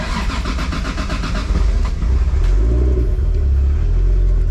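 A Toyota 2JZGTE engine in a car revs loudly and steadily, a continuous deep rumble close by that swells a little after the first second and holds, with no talking over it.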